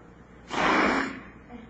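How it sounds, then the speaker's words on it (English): One forceful breath is pushed out by a man: a single loud, rushing exhalation lasting about half a second, close up, with quiet before and after. "forced breath"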